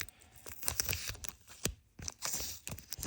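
A paper surprise packet being torn open by hand, with a series of close, crisp ripping and crinkling bursts separated by short pauses.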